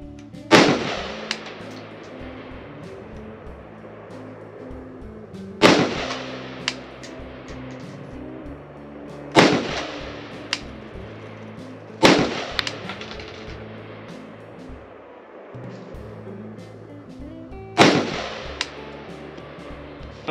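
A WBP 556 AK rifle fires five rounds of green tip ammunition outdoors, each shot a sharp, loud crack spaced several seconds apart, with a lingering echo after each one and a steady background hum between shots.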